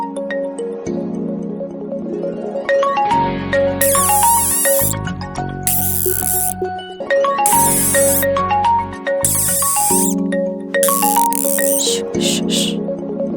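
A mobile phone ringtone plays loudly and close: a repeating electronic melody of bright, stepping notes with bursts of hissy, noisy accents, running continuously for over ten seconds.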